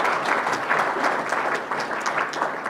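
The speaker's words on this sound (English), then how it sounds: "I think that deserves a round of applause." Audience clapping fills the room at a young people's awards ceremony, a dense, steady burst of applause heard close and alone.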